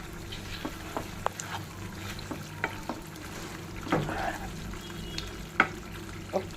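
Curry leaves sizzle in hot oil in a pan of mutton curry with tamarind leaves, a steady close frying crackle with scattered sharp pops and a brief stirring scrape midway.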